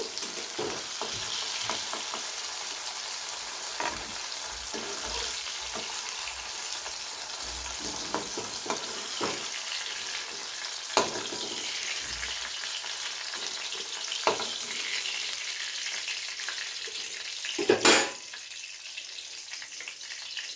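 Okra (bhindi) sizzles steadily as it fries in oil in a pan, a bright continuous crackle broken by spatula stirs and scrapes, with a brief splash of tap water near the end.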